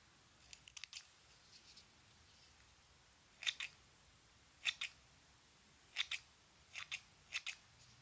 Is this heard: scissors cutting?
yes